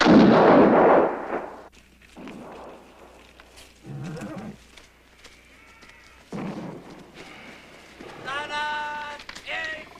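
A battle scene with cannon artillery booming heavily at close range, followed by shouted commands, horses whinnying and more blasts and rumbling, all mixed with voices.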